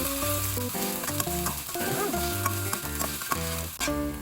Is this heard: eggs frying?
yes